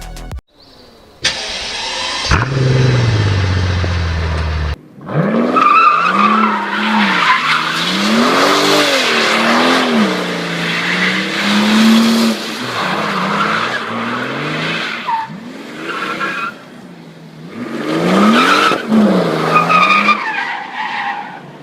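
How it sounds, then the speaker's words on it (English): Tire skids and a revving 6-liter twin-turbo V12 from a 2009 Mercedes SL65 AMG Black Series in Need for Speed: a sharp early screech, then sustained loud engine roar rising and falling through gear changes, close and without talk. "The 2009 SL65 AMG Black Series was powered by a 6-liter twin-turbocharged V12 engine"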